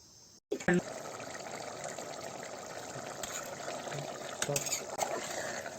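Water is poured into chicken curry with chicken masala in a pressure cooker, starting with a sharp splash and then a steady hissing stream, with a voice faintly present in the background.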